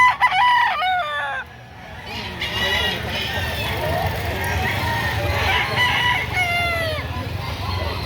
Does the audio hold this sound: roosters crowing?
yes